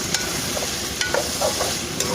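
Tomatoes hit hot oil with frying chicken karahi cooked outdoors in scenic Arang, giving a steady close sizzle with a few stirring clicks and scrapes, no talking.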